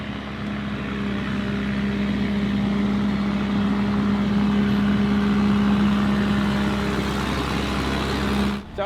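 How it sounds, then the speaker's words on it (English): An almond sweeper with paddle wheels drives along orchard rows during harvest, giving a steady droning engine hum with a constant low tone that holds evenly for several seconds and cuts off abruptly at the end. "if you're watching that sweeper driving along and you wondered what the hell's going on"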